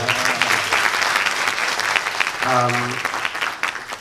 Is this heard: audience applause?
yes